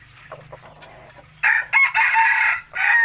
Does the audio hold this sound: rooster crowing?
yes